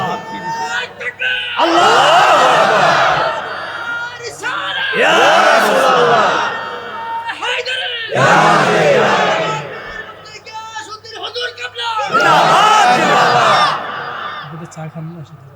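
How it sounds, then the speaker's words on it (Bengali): A large crowd at a religious sermon gathering in Dhaka chants slogans in loud, surging call-and-response bursts. Four or five powerful roaring waves of massed voices alternate with brief quieter gaps. "আবার স্লোগান দাও"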